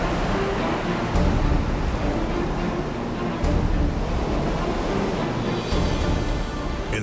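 Giant surf at Jaws, Maui, crashing continuously as a loud broad roar of breaking water with wind buffeting, swelling in a few heavier surges.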